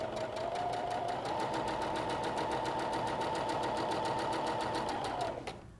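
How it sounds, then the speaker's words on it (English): A sewing machine stitches quilt fabric along a marked line with a rapid, even whirring hum, close and uninterrupted for several seconds before it stops abruptly. "I'm sewing on the marked line."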